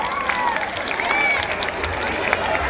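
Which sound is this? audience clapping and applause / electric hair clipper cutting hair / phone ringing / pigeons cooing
audience clapping and applause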